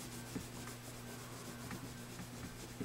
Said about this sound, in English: I'm rubbing both sides of the fret as well as the top of it